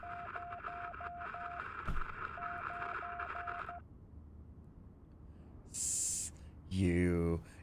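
Radio repair in the video game Deliver Us Home: a rhythmic run of beeping tones with a steady hum, a sharp click, then a quieter pause, a burst of static and a falling warbled electronic sweep, with no talking.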